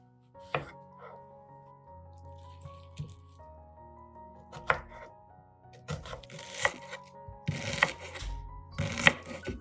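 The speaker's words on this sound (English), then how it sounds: "Finely chop the scallions." A knife chops scallions on a cutting board in sparse single strikes at first, then quicker, sharper clusters of chops toward the end, close and crisp with no talking.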